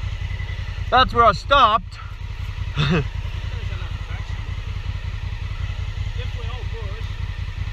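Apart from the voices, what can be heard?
Honda Africa Twin motorcycle engine running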